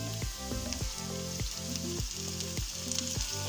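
Black beans sizzle and fry in a hot pan with plenty of onions for a tilapia dish, giving a steady crackling hiss broken by regular clanking stirs.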